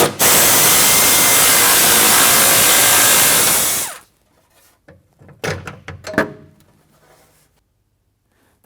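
Power tool driving out the fasteners of a truck heat shield, a loud continuous whirring burst lasting about four seconds, followed by quieter clanks and rattles of parts being handled.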